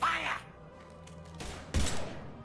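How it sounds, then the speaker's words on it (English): Mass Effect 3 gunfire: after a brief voice-like tone, two short, loud bursts of rapid shots crack out close together near the end. "Now open fire!"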